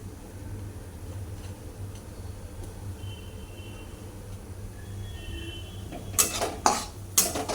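Peanuts and sago roasting in a pan while being stirred. A low steady hum runs throughout, and a few sharp metallic scrapes and clinks come close together near the end. No one speaks.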